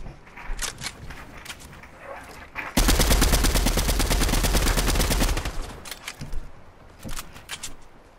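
Gunshots in a video game: a sustained, loud burst of rapid automatic fire lasting a few seconds, with scattered single shots before and after.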